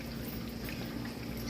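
Fish frying in a thin layer of oil in a small skillet, giving a steady, continuous sizzle and crackle at a low, even level with no talking.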